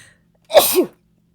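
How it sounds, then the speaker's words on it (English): A single loud, sharp sneeze bursts out from close by, then the room goes quiet. "what am I supposed to do when I have to sneeze"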